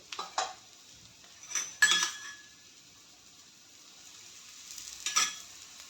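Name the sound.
cucumber thalipeeth flipped and roasting on a pan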